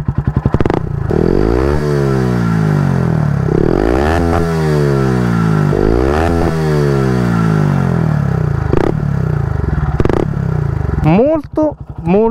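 A Yamaha YZF-R125 engine with a full Termignoni exhaust revs repeatedly, rising and falling in pitch with a deep, throaty exhaust note, loud and close, ending in a few quick blips.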